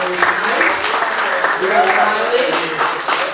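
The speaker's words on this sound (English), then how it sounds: "I'm a round of applause for the wait staff and tonight." A comedy club audience applauds for the wait staff with a short burst of steady clapping and crowd noise. A comedian's voice can be heard talking over it.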